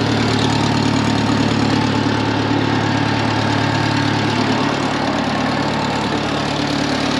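A Case 800 LP tractor engine idles steadily and loudly throughout, a continuous low chugging rumble with no voices over it.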